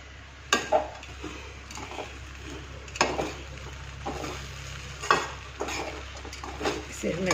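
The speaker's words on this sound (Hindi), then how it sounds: "इसे हमें अच्छे से चला देना है।" A spoon stirring puffed rice poha in a pan, with intermittent scraping knocks against the metal at irregular intervals over a low steady hum, close and fairly quiet.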